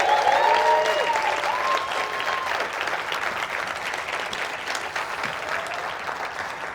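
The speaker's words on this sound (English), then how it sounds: "A round of applause, please." Sustained audience applause from a crowd at a motivational speaking event, steady and full, with a few faint whistles early on, gradually easing in intensity.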